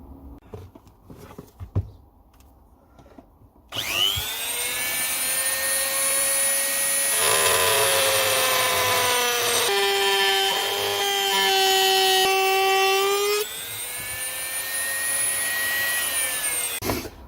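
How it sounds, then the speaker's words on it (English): A Dremel rotary tool cuts a neck pocket into a cigar box guitar, starting abruptly as a loud, close, high-pitched whine that shifts in pitch under load and holds steady for over ten seconds after quiet handling sounds. "I just need to cut that out with the Dremel tool."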